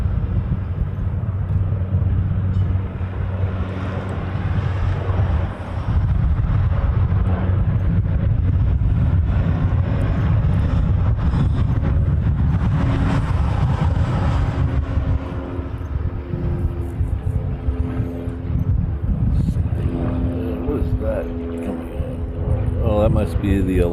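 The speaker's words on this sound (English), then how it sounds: "Must be the Alaska coming in that I forgot to tell you about earlier. It's coming in from Los Angeles, LAX." An Alaska Airlines plane landing at a Hawaii airport, arriving from Los Angeles, makes a loud, steady low rumble that runs throughout beneath continuous talking.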